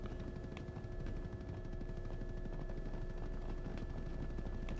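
Steady whirring drone of a transport helicopter in the online shooter BattleBit Remastered, a continuous rotor hum at even level with faint rhythmic chopping throughout, no voices.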